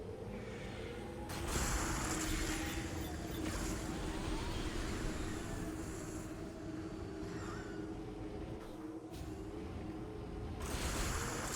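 Distant industrial machinery from the Bolt Forge in the Metroid Prime 4 video game, a steady low mechanical drone with rattling, ratchet-like clanks and occasional hissing bursts, continuous and layered throughout.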